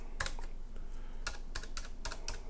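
Keys clack on a Ducky One 2 Mini mechanical keyboard, close up, in short uneven bursts of crisp strokes with brief gaps between them and no voices.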